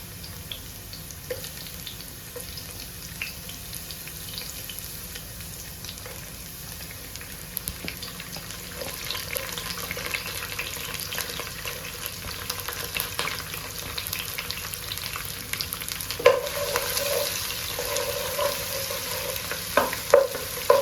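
Garlic frying in a pan as the base for Mangalorean crab sukka, a steady close sizzle with occasional stirring scrapes and clinks that grow louder toward the end, no voices.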